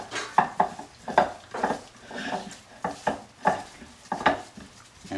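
Tilapia pieces being mixed with salt in a bowl, giving a series of close, uneven clinks and scrapes in an irregular rhythm, with no talking.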